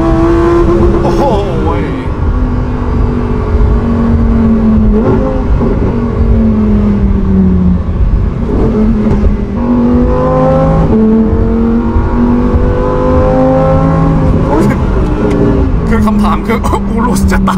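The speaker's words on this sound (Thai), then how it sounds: "STO นี่ต้องบอกเลยว่าเสียงโตมากนะฟังเสียงเครื่อง" A Lamborghini STO's naturally aspirated V10 revs hard as the car accelerates on a road, a loud, close engine note climbing through gear changes, with excited voices talking over it.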